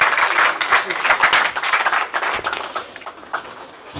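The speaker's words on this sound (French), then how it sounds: "Sous vos acclamations, monsieur" A crowd at a charity auction in Kinshasa claps for a winning bidder, a burst of loud applause that thins out and fades toward the end, with some voices mixed in.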